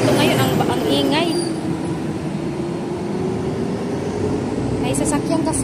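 A steady rumble of passing vehicle traffic from a nearby road runs continuously beneath someone talking, with a few faint higher chirps near the start and end.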